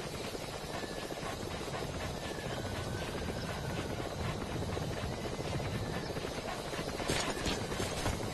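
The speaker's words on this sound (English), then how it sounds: "Support helicopter requested." A support helicopter in Metal Gear Solid 5 arrives with a continuous, loud rotor thrum and chop that fills the scene steadily throughout, with faint clopping hooves mixed underneath.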